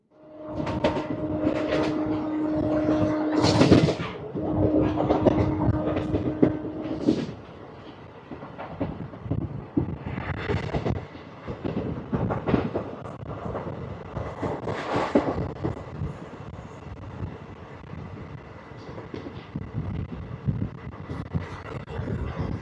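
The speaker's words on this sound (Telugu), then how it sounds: "గుడ్లవల్లేరు అనే స్టేషన్ నుంచి మన ట్రైన్ స్టార్ట్ అయిపోయింది." The Machilipatnam Express, the 17220 service from Visakhapatnam to Machilipatnam, runs on after leaving Gudlavalleru station. Loud, steady rumble with rhythmic wheel clatter and bumps, and a sustained tonal hum in the first several seconds.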